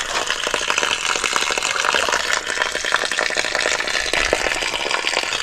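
Water gushes steadily from a garden hose into a small water butt in a back yard, a continuous loud rushing fill with no talking over it.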